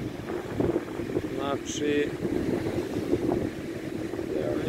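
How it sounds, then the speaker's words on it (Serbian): Rough, wind-whipped waves about two metres high churn at Čanj after rain and wind, making a constant roar of gusts and surf under a man's speech. "ova kiša i ovaj vetar su probudili vodu skroz"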